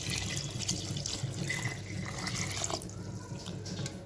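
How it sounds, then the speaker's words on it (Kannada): Water is poured into a cooking pot of salted greens for soppina saaru, a steady splashing trickle that runs for several seconds before thinning out. "ಅದಕ್ಕೆ ನಾನು ನೀರು ಹಾಕ್ತಾ ಇದ್ದೇನೆ"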